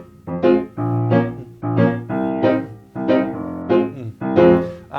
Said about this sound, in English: So it'd probably be a ska pattern. So it sounds like this.